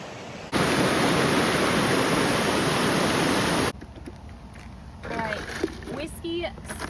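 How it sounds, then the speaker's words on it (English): Rushing water from trailside waterfalls and a moving stream, a loud steady broadband roar lasting several seconds, then dropping to a softer trickle with people talking over it. "there's just waterfalls all along the way"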